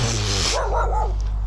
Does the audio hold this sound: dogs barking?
yes